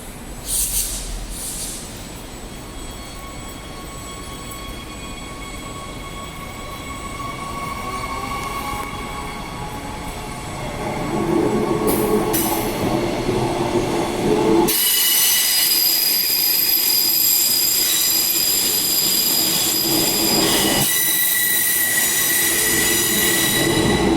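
Steel wheels of a departing Perth suburban Claremont train squeal loudly as it rounds the platform 9 bend, a sustained, piercing screech that swells and grows harsher over rumbling running noise, with no voices.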